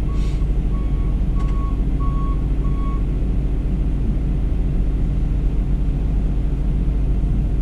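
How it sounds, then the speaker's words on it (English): Five evenly spaced reversing beeps from a truck backing up to be loaded sound over the loud, steady rumble of a heavy engine, which continues alone after the beeping stops. "They got to back up and pull up again."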